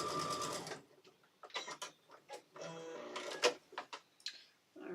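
A sewing machine stitches a piece of a cotton quilt in bursts of rapid mechanical whirring, stopping and starting, close and fairly loud with ticking pauses between runs.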